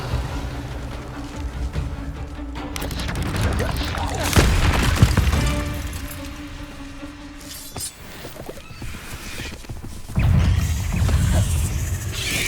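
Bombarda and Confringo spell explosions in the video game Hogwarts Legacy, heavy booms and crashes that recur across the clip over continuous game background sound, with a couple of louder blasts standing out.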